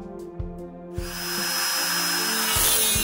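Power tool countersinking a shallow dip over a solder connection, a few clicks and bumps then a rising steady high whine and grinding, close and loud.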